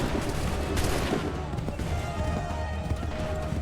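Musket volley gunfire in an Assassin's Creed battle, dense crackling shots and rumble filling the scene continuously, with shouting voices mixed into the noisy combat.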